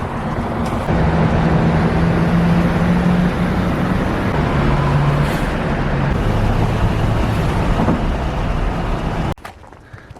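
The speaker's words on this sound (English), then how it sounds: "Little Phoenix traffic for you." Steady road traffic on a Phoenix city street, a continuous broad roar of passing cars and heavier vehicles, fairly loud and close, ending abruptly near the close.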